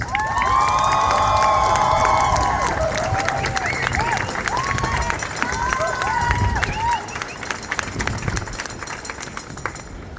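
Large outdoor crowd at a rally for Palestine cheering and clapping to welcome a former IOF soldier to the stage, loud shouts and whoops rising over continuous applause that gradually thins out.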